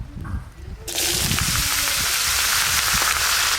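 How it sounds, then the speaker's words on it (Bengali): Chopped snake gourd hits hot oil for chichinga bhorta, and after a quieter moment a loud sizzle bursts in and keeps hissing strongly to the end. "তেল গরম হয়ে গেছে কেটে ধুয়ে রাখা চিচিঙেগুলো দিয়ে দেব"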